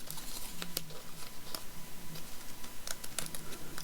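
Paper figures being cut out make a steady, rapid run of crisp, close snipping clicks with an even pulsing rhythm and no talk.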